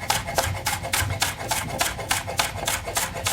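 Knife finely slicing scallion on a board, a quick steady series of crisp rasping cuts, close and clear with no talk.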